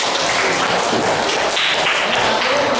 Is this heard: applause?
yes